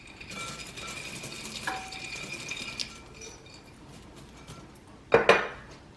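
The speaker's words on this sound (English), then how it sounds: "I'm going to add a cup or so of mixed nuts" Mixed nuts poured into a bowl of homemade classic Chex Mix, a few light clinks and rattles followed by a sharp, brief clatter of nuts landing near the end, close and without talk.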